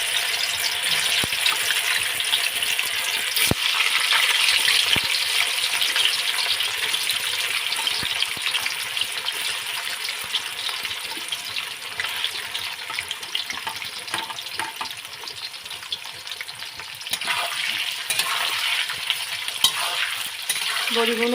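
Fish bori pieces fry in hot mustard oil, giving a continuous broad sizzle and crackle with light stirring, close and steady throughout, without speech.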